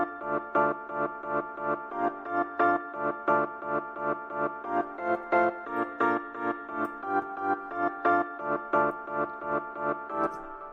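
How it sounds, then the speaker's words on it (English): Bright grand piano with reverb, its chords pumping in a steady rhythmic swell from sidechain ducking, playing continuously and fairly quiet throughout. "This is just Ableton's grand piano, quite bright and with a bit of reverb"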